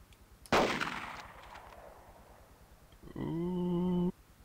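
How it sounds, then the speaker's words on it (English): A single sharp gunshot cracks out in Project Reality on the urban Muttrah City map, trailing a long fading echo. A steady tonal hum follows a few seconds later over a faint pulsing background. "I'm getting shot at from the same roof."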